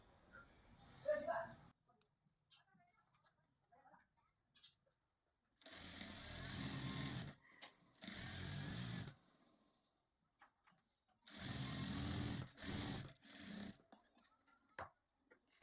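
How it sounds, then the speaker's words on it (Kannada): A sewing machine stitching piping into a sleeve seam runs in four short whirring bursts separated by pauses, close and clear, with faint rustling of the cloth between runs. "ಈಗ ನಾನು ಇದಕ್ಕೆ ಪಾಯಿಂಟೆಡ್ ಸ್ಟಿಚ್ನ ಹಾಕ್ಕೊತಾ ಇದ್ದೀನಿ"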